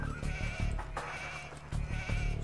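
A sheep bleats several times in quick succession in the video game Age of Empires 2, fairly close and loud, over a steady low background hum.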